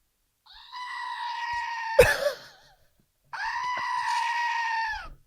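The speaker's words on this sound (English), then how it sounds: "The screaming goat." A goat gives two loud, drawn-out screams, separated by a sharp impact-like burst and a short pause, heard alone without talk.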